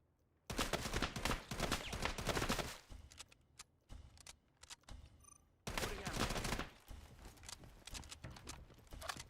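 Bursts of SKS rifle gunfire in the shooter game Delta Force, with dense rapid volleys for about two seconds, a lull with scattered single shots, then another sustained barrage, all loud and close.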